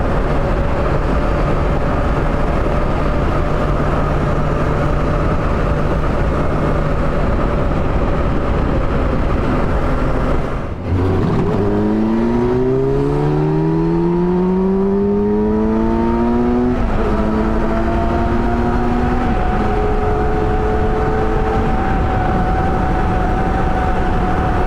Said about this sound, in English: Wind noise from the front end.